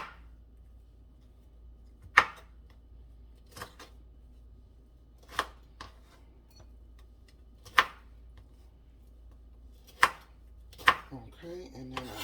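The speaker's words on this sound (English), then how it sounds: "I know you don't want to see me chopping up broccoli." A knife chops broccoli on a cutting board in a home kitchen, with sharp separate thunks spaced a second or two apart against a quiet background and a quicker cluster of cuts at the end.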